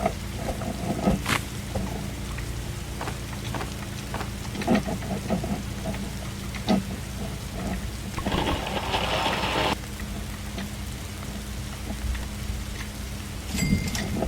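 Steady rain hisses through a lightning storm in the video game 99 Nights in the Forest, with scattered crackles and a brief rumbling swell of thunder, no voices.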